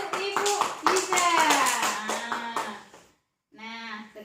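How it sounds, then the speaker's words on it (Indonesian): Clapping from a small group in an Indonesian child-protection training session, rhythmic and fairly close, mixed with speech throughout and a brief pause before the hands resume. "kita beri tepuk tangan untuk Ibu Liza."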